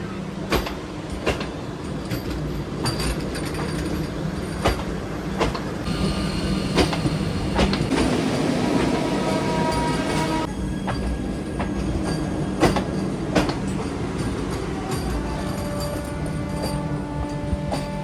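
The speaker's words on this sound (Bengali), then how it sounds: "আমাদের ট্রেনের পেছনেই আসছে Howrah Rourkela Vande Bharat express, Indian railways এর কিং।" A Howrah–Rourkela Vande Bharat Express approaches and passes close by, giving a loud, steady rumble of wheels and carriages with rhythmic clacks over the rail joints and brief metallic squeals throughout.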